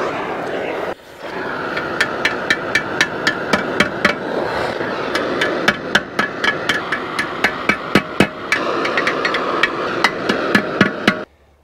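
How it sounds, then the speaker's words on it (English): Sharp metallic ball peen hammer strikes ring out in a steady series, over twenty blows at a quick regular pace, loud and close against a constant background hum, during a Caterpillar D4 Hyster winch rebuild. "I'm definitely going to need my ball peen hammer"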